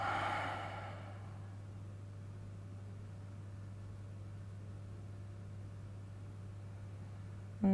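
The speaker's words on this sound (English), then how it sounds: "Take a nice deep breath in through your nose. Open your mouth and exhale." A long, breathy exhale through the open mouth during a morning yoga flow, a soft rushing breath up close that fades within about a second, then a low steady hum of room noise.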